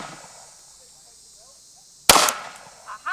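A tiny toy-scale gun fires at a small target, which explodes: one sharp, loud crack after a quiet lead-in, followed by a brief fainter clatter.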